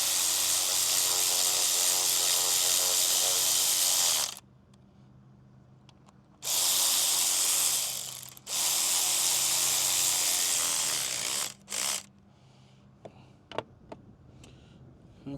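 A power tool tightens down a fuel pump on a Bayliner boat, running in two long loud bursts of steady whirring separated by pauses, followed by short quieter spurts and small clicks.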